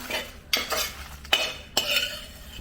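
A spoon stirs chammanthi podi in a pan over a medium flame, making four sharp scraping strokes in quick succession with soft rustling of the dry mixture between them.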